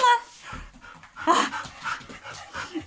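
A dog pants in quick breathy bursts, with soft whimpers mixed in, close by.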